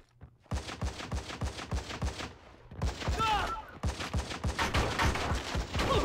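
Rapid bursts of video game gunfire from Army of Two: The 40th Day on PlayStation Portable, dense repeated shots and volleys running nearly nonstop at moderate loudness, with voices in the mix.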